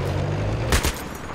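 A mounted gun fires in the online shooter Battlefield 3, a short muffled burst of shots around the middle over steady background rumble.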